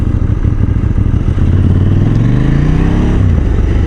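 KTM 790 Duke motorcycle engine revving up, its pitch climbing steadily over a few seconds before dropping back, loud and close with a constant rumbling throb.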